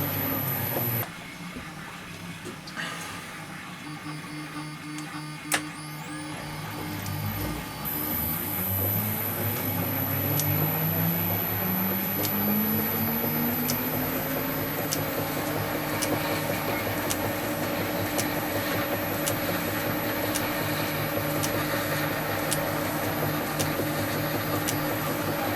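Jackshaft and lineshaft machinery running in a workshop, a steady mechanical hum and whir with a pitch that climbs as it spins up, regular light ticking throughout, nearby and without speech.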